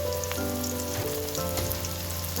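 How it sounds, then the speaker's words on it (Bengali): Pulao ingredients fry in a pan with a dense, continuous sizzle and crackle, heard up close and steady with no talking. "এভাবে ভালো করে ভেজে নেব"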